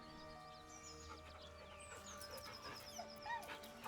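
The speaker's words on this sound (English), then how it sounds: "dog whimpers nervously" A dog in Baldur's Gate 3 whimpers nervously, giving faint, thin high whines and short yips over a quiet, softly humming background.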